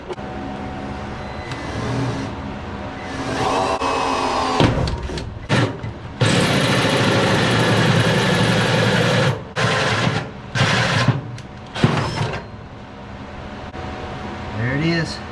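A punch tool cutting a hole through the core support of a 1966 Chevrolet C10 truck, a loud steady grinding whir broken by short pauses, with someone talking in between.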